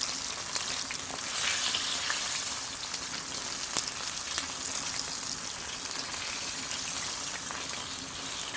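Herbs and onions fry in hot oil with lemongrass and garlic, giving a steady, close sizzle with fine crackling pops throughout and no talking.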